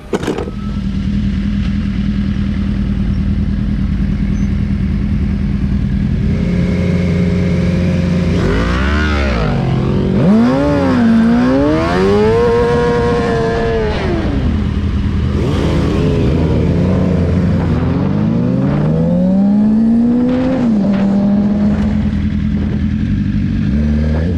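A damaged motorcycle engine revs up and down in rising and falling sweeps, loud and close, over a steady idle rumble with some mechanical clatter throughout.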